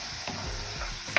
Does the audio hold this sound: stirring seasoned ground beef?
yes